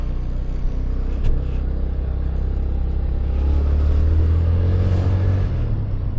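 A car pulls away hard, its engine rumbling low and building as it accelerates, close and steady, with a brief clatter early on.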